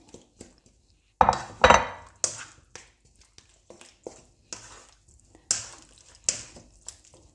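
Pork being put back into a pan of sweet and sour pepper sauce: irregular metallic clanks and scrapes of a utensil against the pan, with a few louder knocks between quieter gaps.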